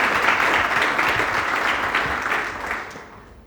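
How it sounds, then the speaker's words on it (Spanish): A crowd at a union training gathering claps together in steady, close applause that holds for a few seconds and then fades toward the end. "Aquí un aplauso para el compañero."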